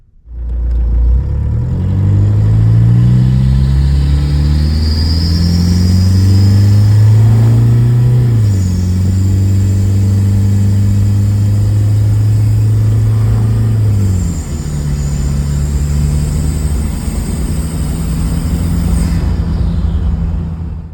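A Jeep XJ swapped with a TDI diesel engine driving, its engine loud and close throughout, rising in pitch through gears with shifts near 7 and 14 seconds, then steady cruising.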